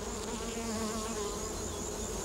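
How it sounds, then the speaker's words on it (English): Buzzing of a native stingless bee, small and fly-like, around its hive under a rock in the Australian bush near Doomadgee; a steady, continuous drone stays close and even throughout, alone without talk. "The native bee doesn't have a sting, and he looks like a little fly"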